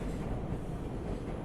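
A Coney Island-bound N train on the New York subway, an R46 car, rumbles steadily along the track with a continuous low roar and faint rail clatter, heard from inside the car, with no talking.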